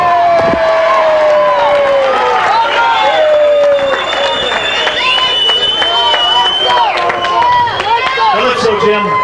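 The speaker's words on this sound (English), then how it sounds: "how about a big round of applause for Calypso Jim and Bobo Brazil?" A wrestling crowd cheers and claps for two wrestlers after a bout, a loud, busy roar of applause and shouting under a ringside announcer's voice.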